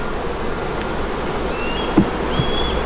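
Honeybees in a hive with laying workers, a steady close-up drone of buzzing throughout, with a few brief louder passes and a soft knock near the middle.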